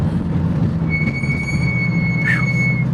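Carbon ceramic brakes on a Ferrari squeal as a high steady whine over low rumbling road and engine noise, with a brief rising chirp near the end, loud and close.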